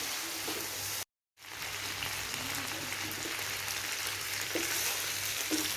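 Prawns frying in oil make a steady, even sizzle like light rain, broken once by a short silent gap, with faint clinks now and then.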